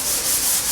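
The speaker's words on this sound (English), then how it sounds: "we've got double sanding action." Steady, close rasping of sandpaper rubbing back and forth over wooden kitchen cabinets, continuous and fairly loud throughout.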